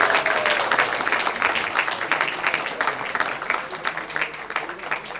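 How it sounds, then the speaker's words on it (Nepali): Guests arriving at a sports award ceremony, including a municipal deputy mayor, are welcomed with hall applause: a crowd claps in an uneven, flickering patter that swells and dips, with a murmur of voices beneath. "मलाई जोरदार तालीका साथ स्वागत गरौँ"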